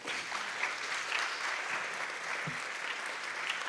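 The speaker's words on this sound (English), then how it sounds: "Please join me in giving her another round of applause." An audience at the CHIL 2025 conference applauds a speaker, with dense, sustained clapping from many hands filling the room evenly throughout.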